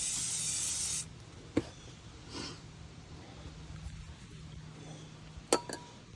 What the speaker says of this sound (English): Now we're going to want to spray